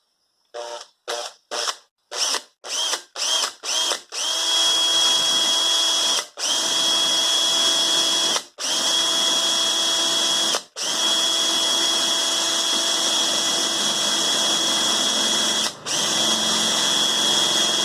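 Power drill run by hand to mount a PIR motion sensor: about eight short bursts, then a long, steady, high-pitched whine held for over ten seconds and broken by a few brief stops, loud and close.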